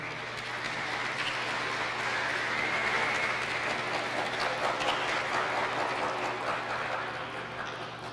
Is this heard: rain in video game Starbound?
no